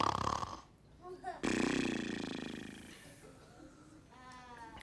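A storyteller's voice imitates snoring, giving a few drawn-out, rumbling snores with breathy pauses, close and clear.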